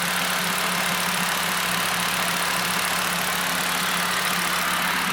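A Volkswagen MK6 Golf with the 2.5 engine idles steadily and close by after a PCV valve rebuild, giving an even, continuous rumble with no change in pace.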